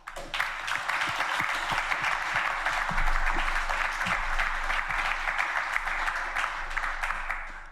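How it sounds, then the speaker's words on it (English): Warm audience applause fills a scientific meeting hall for a WildCRU lion research talk, a thick, sustained patter of many hands, loud and close, holding strong throughout. "You hear the warmth of the applause"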